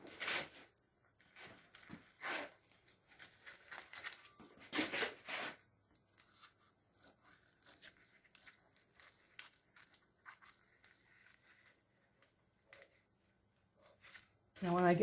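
Scissors snip along heat-sealed plastic sheeting, a series of close crisp cuts and crinkles in irregular bursts, busier early on and then sparser with quieter rustling, ending on a louder crackle.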